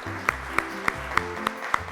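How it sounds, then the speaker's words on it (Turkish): About six sharp, evenly spaced claps ring out over a steady musical backing on a children's quiz-show set, a brief rhythmic round for both competing teams. "İki gruba da bir alkış gelsin"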